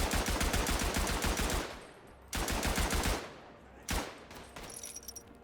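A machine gun firing in the World War I video game Tannenberg: long rapid bursts of loud, close gunfire separated by short pauses, then a few scattered single shots with fainter distant battle noise.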